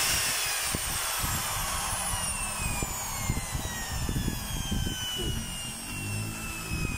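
A DeWalt DWD024 half-inch drill with a broken switch runs on without stopping, its motor giving a steady whine over uneven rumbling and rattling that never pauses.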